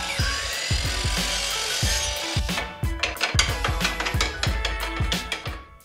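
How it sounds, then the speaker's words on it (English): Wood trim pieces being cut at 45-degree angles with a power saw: a whining cut at first, then a series of sharp, repeated knocks and cutting bursts, close and fairly loud. "I then started cutting pieces at 45 degrees."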